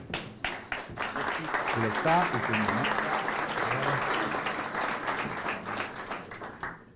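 Applause from a conference audience fills the hall, dense and continuous for several seconds before tapering, while a speaker briefly talks over it.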